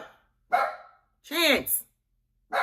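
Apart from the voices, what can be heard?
pet dog barking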